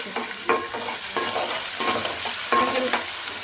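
Onion pieces frying with ginger garlic paste for chicken curry, stirred in a pan: a steady close sizzle with repeated scraping stir strokes at a regular pace, no talking.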